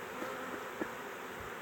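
Steady droning buzz of honey bees swarming around an open hive frame, dense and close throughout, with a few faint bumps and no talking.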